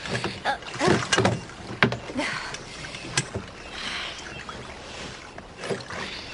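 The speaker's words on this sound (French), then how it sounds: "Fais des petits mouvements et garde tes rames en surface." Oars splashing and knocking against a boat while rowing on water, in an irregular series of close wet strokes and clunks, with people talking in between.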